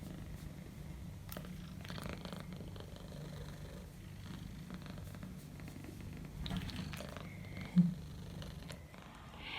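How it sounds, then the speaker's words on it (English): A cat purrs close by in a bathroom, a soft, steady rumbling that runs the whole time with a faint brief bump near the end, and no one speaks. "Listen to her purring though."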